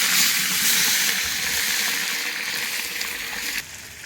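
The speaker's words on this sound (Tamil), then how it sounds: "எண்ணெய் கொதிச்சிருச்சு." Hot oil for a bulk batch of mutton biryani hisses and sizzles steadily in a large pot, a close, bright crackle with no talk, easing slightly before the end.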